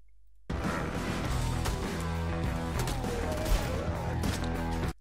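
An Ogryn fires a grenade launcher at close range in a Darktide trailer, a dense, unbroken wall of heavy blasts and booming impacts that runs loud for about four and a half seconds with no talking.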